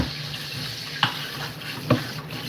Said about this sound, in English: Let's wash them over water and that's it.